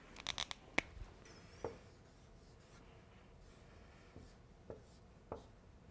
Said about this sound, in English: Then you can just go over the board and start writing.